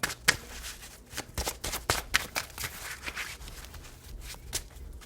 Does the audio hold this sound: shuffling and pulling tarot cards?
yes